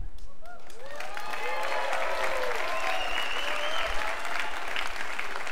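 An audience claps steadily in sustained applause, with faint whoops and a whistle-like tone rising above the clapping.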